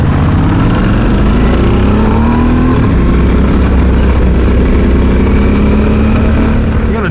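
A CFmoto 450MT motorcycle is ridden past or away, its engine note rising and falling with steady loud rumble and shifting pitch sweeps, with wind and road noise throughout and no speech.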